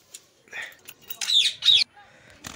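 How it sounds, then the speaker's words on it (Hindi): A pet parrot just out of its cage lets out a few short, sharp squawks close by, in brief bursts with quiet gaps between them. "मेरा जो मिट्ठू है वो बिल्कुल निकल चुका है पिंजड़े के ऊपर से"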